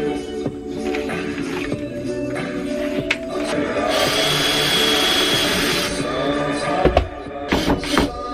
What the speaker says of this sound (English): I need more weight while I drill it in to get it more flush.